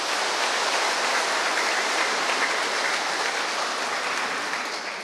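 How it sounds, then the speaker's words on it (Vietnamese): Sustained, dense applause from a church congregation during a Catholic celebration honoring an archbishop in Hanoi, steady and full throughout before tapering slightly at the end. "một tràng pháo tay giòn giã của cộng đoàn"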